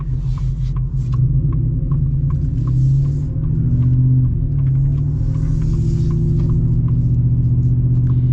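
A lowered 2025 Black Widow F-150 pickup pulls away under light throttle, its deep, steady engine rumble heard from inside the cab, swelling gently as the truck gains speed.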